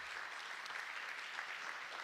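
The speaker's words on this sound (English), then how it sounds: "Let's give Mark a round of applause for a great presentation." Steady applause from an audience after a farming presentation, a dense patter of clapping heard from some distance, fairly faint and unbroken.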